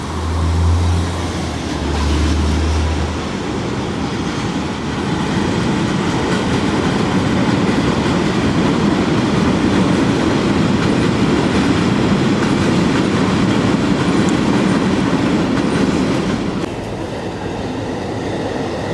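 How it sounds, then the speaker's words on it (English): A Keisei line train rolls past very slowly in Tokyo, a steady loud rumble with faint clickety-clack running through the whole stretch, heard close by and alone without talk. "The train from the Keisei line running really slow for some reason."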